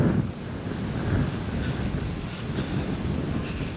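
Steady low rumbling wind buffeting a microphone near the water at the Marlboro Projects in Brooklyn, loud and continuous throughout, with a faint wash of water in the background.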